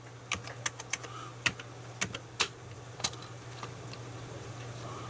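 Keys clatter on a computer keyboard of an Amiga 500 setup, a string of separate sharp clicks spaced unevenly over a steady low hum, close and fairly quiet.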